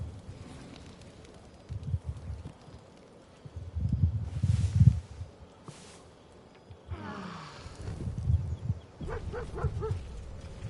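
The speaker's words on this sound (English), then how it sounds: "Now look, the dog's here." A dog barks in the video game Baldur's Gate 3. There are a few separate bursts of barking at moderate volume over a rustling game ambience, with no talk.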